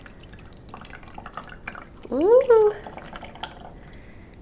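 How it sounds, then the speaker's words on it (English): Water poured carefully through a funnel into a container of water beads gives a short, close gurgling burst lasting under a second, while a voice makes a brief exclamation. "very carefully, I'm going to pour the water into the funnel"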